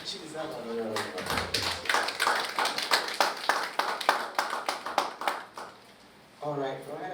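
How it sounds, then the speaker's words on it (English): A small audience at a summit gives a round of applause, sparse distinct claps in an uneven rhythm close by, fading out before a speaker's voice returns. "She deserves another round of applause."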